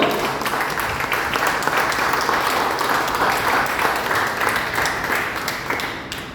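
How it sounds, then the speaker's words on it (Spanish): Sustained applause from a church congregation, dense steady clapping filling the space throughout at fairly close range and tapering slightly at the very end. "Denle un aplauso a Dios."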